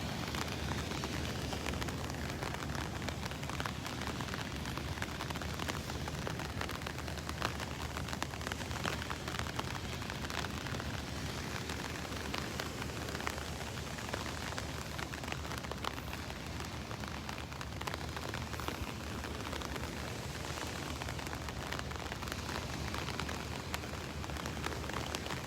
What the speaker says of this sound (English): You can hear the rain hitting the umbrella